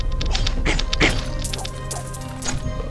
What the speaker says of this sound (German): Die explodieren.